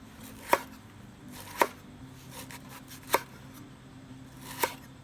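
A knife slices lemongrass and kaffir lime leaves on a board, four crisp separate cuts spaced about a second apart, close and clear with no talking.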